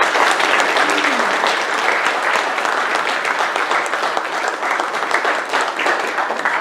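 Audience applause at a panel talk on Hawaii's physician shortage: a loud, dense, sustained wash of clapping from a crowd, steady throughout with no speech on top.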